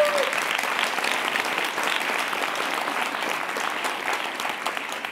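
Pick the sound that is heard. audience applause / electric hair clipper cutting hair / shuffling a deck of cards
audience applause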